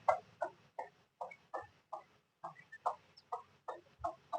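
A hen clucks while eating feed alongside her small chicks, giving a steady series of short, soft clucks at a regular rhythm, close and fairly quiet.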